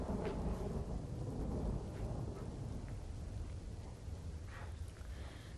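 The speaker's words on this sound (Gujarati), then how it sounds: "બોટાદ શહેરમાં ધોધમાર વરસાદની શરૂઆત થઈ છે" Heavy monsoon downpour over Botad city, a dense continuous roar of rain with deep rolling thunder, loudest at the start and easing slightly, no voices.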